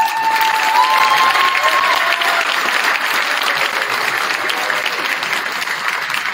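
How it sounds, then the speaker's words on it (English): Loud, dense applause from a large crowd at a state football pep rally, honouring the coach, sustained evenly throughout with scattered cheers and a brief whistle-like tone early on. "So let's give a big round of applause."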